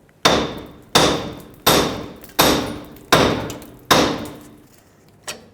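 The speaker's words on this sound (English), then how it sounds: "Take a hammer, hammer this area, and that'll break the tie rod free." Six loud, evenly spaced hammer blows ring out against a metal tie rod on a 1996-2002 Toyota 4Runner, each sharp strike decaying quickly, followed by a lighter final tap.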